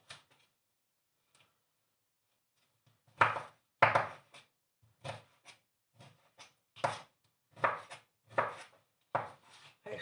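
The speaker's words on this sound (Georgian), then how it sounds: "აი ასე დავჭრათ ფორთოხალი" A knife chops an orange into small pieces on a board, a quiet start followed by a steady series of sharp, close cuts at an irregular rhythm, with no talking.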